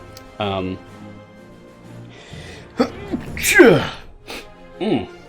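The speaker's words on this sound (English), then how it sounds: "Apologies, I had to sneeze there." A single sharp sneeze bursts out partway through, with someone speaking before and after it.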